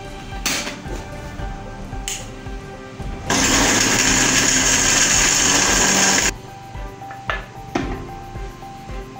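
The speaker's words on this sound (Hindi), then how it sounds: "अब इसके बाद हम इसको ब्लेंड करेंगे।" Spices fried for chicken karahi being ground in a blender, a loud steady whir lasting about three seconds, close by, framed by quieter kitchen clatter and knocks before and after.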